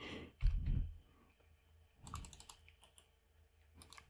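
Computer keyboard keys pressed in short clusters during Debian 12 server setup, a few soft clicks and quick shortcut combinations with quiet gaps between, close and fairly faint.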